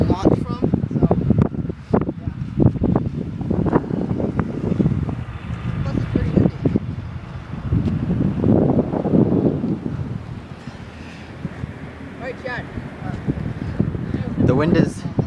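Wind blusters steadily outdoors where a model plane is launched, a rough low rumble on the microphone that runs throughout while people talk over it.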